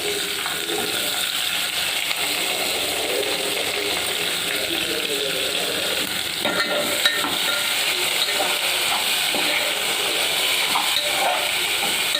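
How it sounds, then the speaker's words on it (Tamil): Sliced onions soften in a pan with curry leaves, dried red chillies, cumin and fennel in hot oil, a steady close sizzle with occasional stirring scrapes throughout, no one speaking. "வெங்காயம் வதங்கட்டும்."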